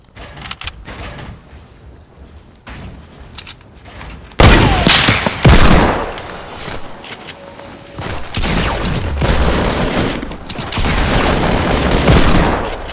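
Gunfire in the Fortnite video game, with bursts of rapid shots and booms, loud and close, that become denser and more continuous in the second half and are mixed with game effects.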